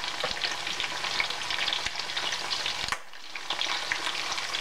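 Sweet potato fries crackle and sizzle in hot oil, a dense, steady frying hiss with a few sharp pops and one brief lull, close up and with no talk.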